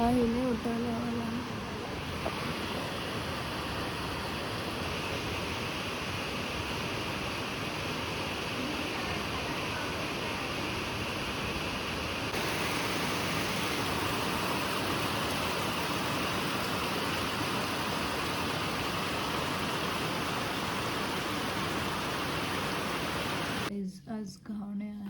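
Steady morning rain hisses in a dense, unbroken wash for about twenty-five seconds, loud and close, and cuts off abruptly near the end.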